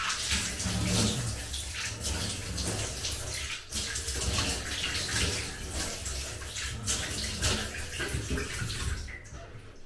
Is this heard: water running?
yes